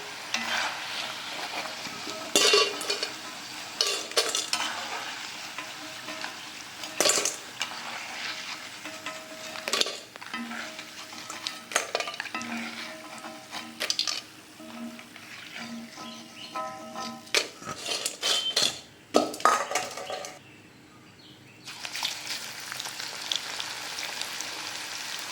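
Nendran banana chips frying in hot oil, a continuous crackling sizzle with occasional stirring clatters, close and steady throughout with no talking.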